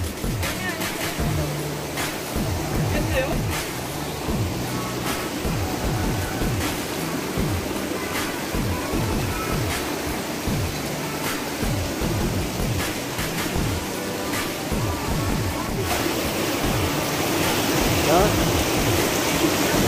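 Continuous rushing water from Tulo Tulo Falls in Bulacan, Philippines, roars steadily throughout, with occasional faint voices beneath the noise.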